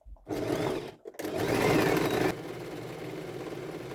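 A sewing machine stitches a quilt cover with fast, close mechanical stitching. One short run is followed by a brief stop, then a longer, louder run that drops to a softer, steady motor hum.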